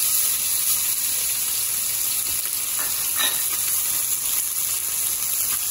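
Plaice fillet sizzling steadily in a hot frying pan, with a loud, continuous crackling hiss and brief spitting bursts throughout.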